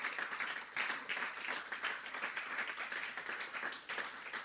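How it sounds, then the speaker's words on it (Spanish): Congregation clapping in a church service, a steady dense wash of many hands applauding at moderate level throughout, with no clear speech over it. "¿Por qué no da un aplauso al Señor?"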